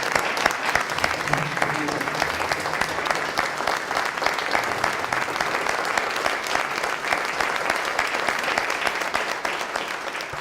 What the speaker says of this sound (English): Let's all give Ron a round of applause.